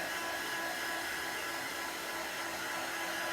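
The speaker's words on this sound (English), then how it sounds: "Or you can use your hair dryer if you like." A hair dryer blows steadily on chalk paint, a close, constant broadband whoosh with no pauses and no talking.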